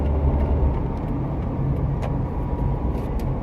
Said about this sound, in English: This fucking bus.